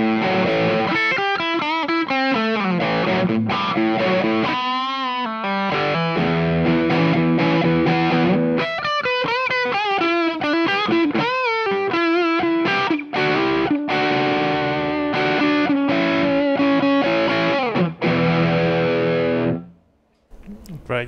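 A crunchy, distorted electric guitar plays chunky rhythm chords and short riffs through effects pedals, loud and close, ending with a sudden drop to near silence.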